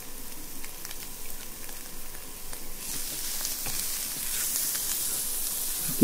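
A boiled cauliflower and carrot mixture fries in a pan for vegetable noodles, a steady hissing sizzle that grows brighter and louder midway, with faint stirring taps and no speech.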